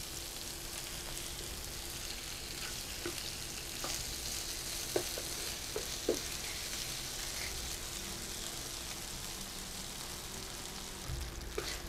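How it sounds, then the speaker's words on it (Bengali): Chicken pieces fry in oil in a pan for a quick Chinese-style chicken curry, with a soft, steady sizzle and a few light utensil clicks during stirring. "তিন মিনিটের মতন ভেজে নিলাম"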